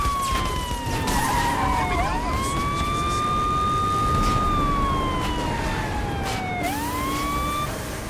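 A video game police car siren wails continuously, sweeping slowly up and down in pitch over a steady roar of traffic noise, loud and close.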